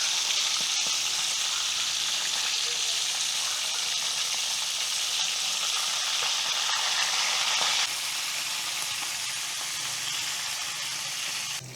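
Dalagang bukid fish fries in a pan with oil, giving a steady, close sizzle that runs unbroken throughout, slightly softer toward the end.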